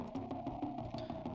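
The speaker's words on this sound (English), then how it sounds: "the growly synth sounds a bit like this." Gritty, growling dubstep bass synth from a Vital preset, with pulsing, choppy movement and bright noisy bursts on top, playing steadily and loud without any voices.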